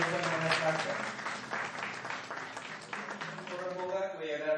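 An audience applauds at a Voters Party launch, many hands clapping in a dense, lively patter that swells and eases, with voices speaking over it.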